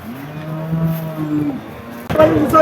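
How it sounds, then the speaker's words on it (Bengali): Bullocks at Chaugachha cattle market in Jessore: a drawn-out bovine moo close by, followed by a shorter second call, with crowd noise and faint voices in the background. "আর সারি সারি বলদ গরু চলছে বলদ গরু কিনা বেচা"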